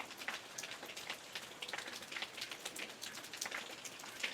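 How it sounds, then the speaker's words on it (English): Hard rain falls steadily on a surface, a dense, even patter of drops at moderate distance with no voices over it. "We had a hard rain for a while, and we were happy the roof didn't leak."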